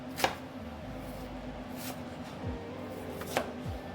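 A knife chopping onions on a cutting board, a few sharp separate chops spaced irregularly over a quiet steady background hum, no talking.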